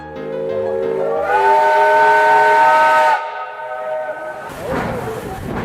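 A loud, sustained steam locomotive whistle blares for several seconds with a hiss of steam at a Moscow railway platform, then cuts off, leaving rumbling and a burst of venting steam.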